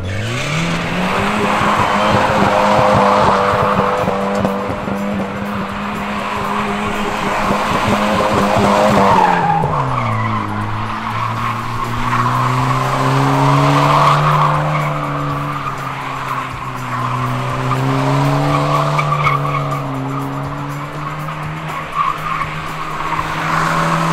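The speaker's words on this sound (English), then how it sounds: "They might let me do a donut or a burnout or something." A car spins donuts or does a burnout at a Fall Matsuri event, with sustained, loud tire skidding and squealing over a droning engine whose pitch dips and then climbs again across the whole stretch.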